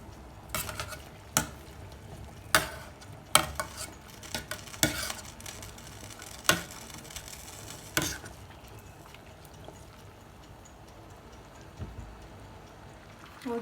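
A pot of salted water comes back to a boil with wild garlic flowers in it. Soft bubbling runs throughout, with sharp clinks of a utensil against the pot spaced every second or so, then fading toward the end.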